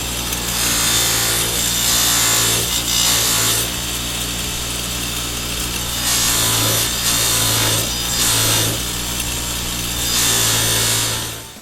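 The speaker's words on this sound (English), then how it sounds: "I'm just going to run it up against the buffing wheel one more time." A steel saw-blade throwing star pressed against a spinning buffing wheel gives a loud, steady grinding rub that swells and eases in several passes over the wheel's constant motor hum.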